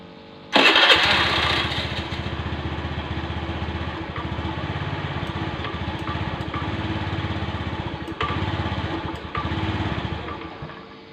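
A Honda Beat FI scooter with an electrical fault, running on a borrowed battery, starts with a sudden loud catch and then idles steadily and close by for about ten seconds, with a brief rise in engine note near the end.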